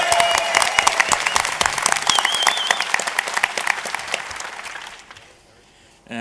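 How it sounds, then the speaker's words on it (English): A panel audience applauds with fast, dense clapping that stays loud for several seconds before fading out to near silence. "can I have applause for Eve"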